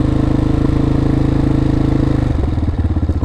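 A 2003 Honda CRF230F dirt bike idles on choke with a rapid, loud, close putter that falters and turns uneven near the end as the engine stumbles.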